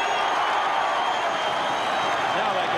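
A large Australian football crowd roars and cheers at a Carlton match after a goal, a dense, loud and sustained wall of voices and applause.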